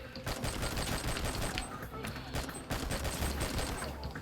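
Pistol fire rings out in the R.I.P.D. video game, with rapid repeated shots over dense continuous game noise and effects throughout.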